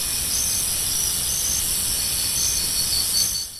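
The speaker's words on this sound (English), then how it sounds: "Next up, two cricket sounds. The first from The Perfect Therapy." Steady, dense cricket chorus recorded for tinnitus sound therapy: a continuous high, shimmering trill that holds an even level from start to finish with no pauses or silence.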